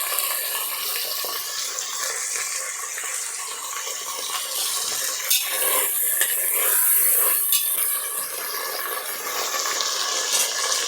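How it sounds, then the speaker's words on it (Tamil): Onions frying in oil for a Tamil-style chicken biryani, giving off a steady, close, fairly loud sizzling hiss that swells slightly midway, with no talking. "நல்லா கோல்டன் ப்ரௌனாக ஃப்ரை ஆகட்டும்."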